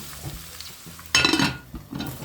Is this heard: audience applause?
no